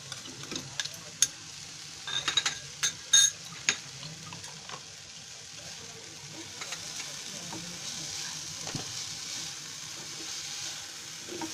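Finely chopped capsicum frying in a pan for a homemade tawa pizza topping, a steady soft sizzle with a few sharp clinks of a utensil early on, then continuous low frying hiss.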